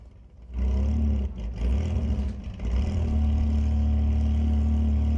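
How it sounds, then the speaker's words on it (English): A 1995 Dodge Dakota pickup truck in automatic stock class at a drag strip launches with a loud engine roar that rises abruptly and holds steady, heard from nearby without commentary. "Flodine in a 1995 Dodge Dakota pickup truck."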